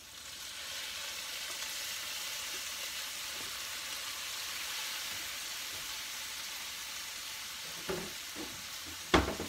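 Food fries in a pan with Filipino soy sauce added for browning, giving a steady close sizzle and hiss, followed near the end by a few sharp utensil knocks.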